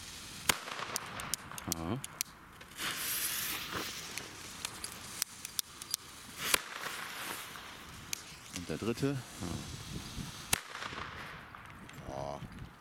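Lesli Vipers firecrackers, old and worn, go off in a string of sharp loud bangs at irregular intervals, with crackling bursts in between and people reacting nearby.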